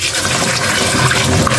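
Water runs steadily from a kitchen tap over freshly cut vegetables for shukto, such as papaya and pumpkin, as they are rinsed. The close, continuous splashing and gushing holds at one level without pause.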